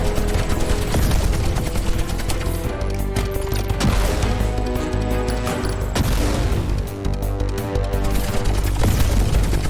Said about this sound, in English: He's got homing missiles.